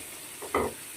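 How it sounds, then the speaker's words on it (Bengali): Prawns hit a hot pan with a short hiss of frying, a brief close sizzle that swells and fades within a moment over a faint steady background. "খুব বেশি চিংড়ি মাছটা ভাজবো না"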